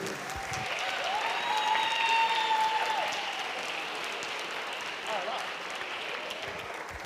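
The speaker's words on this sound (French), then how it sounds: "Je vous demande d'applaudir Monsieur Gérald Carlin." Audience applause fills a graduation ceremony hall for apprentices of a training centre in Nice, steady and sustained for several seconds, with faint voices and a brief tonal whistle-like sound in the background.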